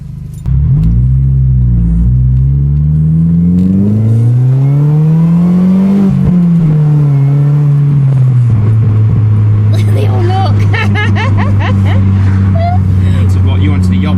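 A Mini Cooper S engine revs up and down loudly with a throaty Malian exhaust note while driving, pitch rising and falling, with some rattling from the centre section toward the end.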